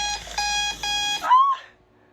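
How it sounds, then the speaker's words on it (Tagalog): A loud electronic alarm clock rings in short repeated beeping bursts, then breaks off into a brief warbling tone and falls silent. "Sorry yung alarm ko."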